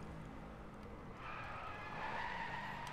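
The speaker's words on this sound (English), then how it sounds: "we gotta hit the brakes real quick" A race car in the Drive Club video game braking hard, its tires skidding and squealing in a rising, sustained screech over a steady engine drone, fairly faint overall.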